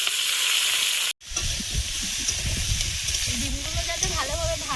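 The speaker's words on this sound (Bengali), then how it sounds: "ডিমগুলো যাতে ভালোভাবে ভাজা হয় তাই আমি একটু ছিঁড়ে ছিঁড়ে দিচ্ছি" Vegetables and fish roe fry with garlic and five-spice tempering for Bengali shukto, giving a steady close sizzle throughout, broken by one brief silent cut near the start, with faint stirring beneath.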